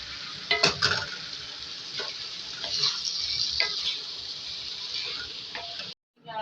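Aloo bhaji with red chili cooking in a pan, a steady close sizzle of frying with scraping stir strokes across the first few seconds, then a brief drop to silence near the end.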